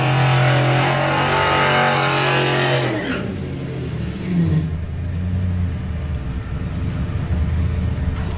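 A VW Polo TDI drag car at a Bug Jam qualifying event launches and races away down the strip, a loud droning engine note that rises then fades into a sustained distant rumble of the crowded track.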